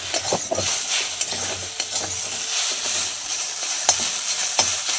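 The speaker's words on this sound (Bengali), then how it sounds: "মশলাটা দিয়ে একটু ভালো করে নাড়া দিয়ে নিতে হবে" A spice mix is stirred in a hot frying pan: close, continuous sizzling with a run of scraping, knocking strokes from the spoon at an uneven rhythm.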